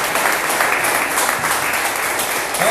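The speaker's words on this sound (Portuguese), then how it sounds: "Aplauda o Senhor novamente, em nome de Jesus." Church congregation applauding at a worship service, a steady dense wash of many hands clapping together, loud and continuous throughout with no break.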